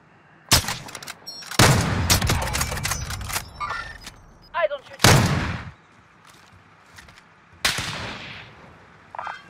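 Gunfire in the Rebirth battle royale video game: loud, close bursts of shots in separate clusters, some rapid strings and some single cracks, with quieter gaps between them.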